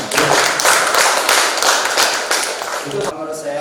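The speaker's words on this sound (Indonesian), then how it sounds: "Tepuk tangan." An audience at a formal meeting gives a short round of close, dense clapping that fades slightly toward the end, with voices faintly underneath.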